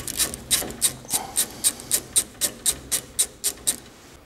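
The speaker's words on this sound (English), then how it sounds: "So I'll start undoing these screws," A spanner or ratchet undoes the 7/16 radiator screws on a Triumph Spitfire Mk2, making about a dozen evenly spaced rasping clicks, close and fairly loud, with no talking.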